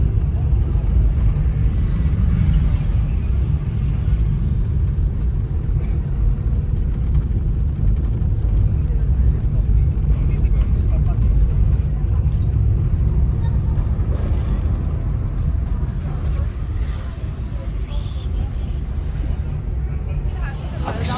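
Road traffic in Goa during the New Year's Eve rush, a steady low rumble of engines and passing cars that continues throughout, with voices talking over it.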